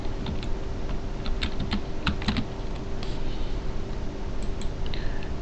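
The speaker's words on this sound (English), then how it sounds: "Let's just go to type here and say Google" Typing on a computer keyboard: a scattered run of crisp key clicks at moderate loudness over a steady low background hum, with no voice.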